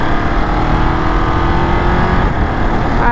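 Engine note of a Ducati Monster motorcycle with a quick shifter, riding through city streets: a loud, steady, continuous drone with no gaps and no one talking.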